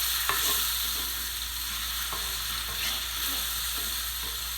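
Zucchini boat filling sizzles steadily in a pan while a spoon stirs it, giving soft scraping clicks over the constant frying hiss; no one speaks.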